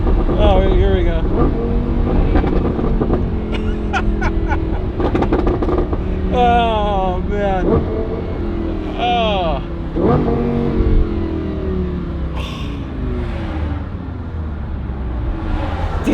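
Lamborghini Huracan engine revving hard and downshifting with a screaming high-rpm Italian note, loud and close throughout, with a man's excited exclamations over it.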